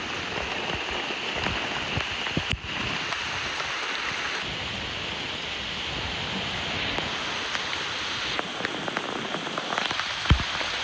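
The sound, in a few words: heavy rain falling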